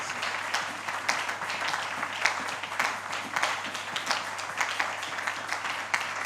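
A church congregation applauding during a sermon: dense, sustained clapping from many hands, moderately loud and steady for several seconds, with a low background hum.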